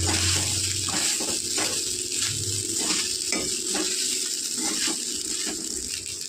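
Sabudana khichdi with salt, green chilli and crushed peanuts roasting in a pan on a low flame, giving a steady close sizzle with soft rhythmic scrapes of stirring throughout.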